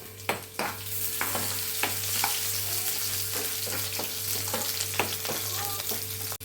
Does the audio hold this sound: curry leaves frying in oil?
yes